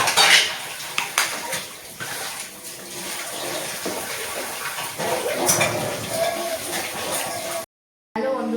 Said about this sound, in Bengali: যে বাসনগুলো মেজে নেবো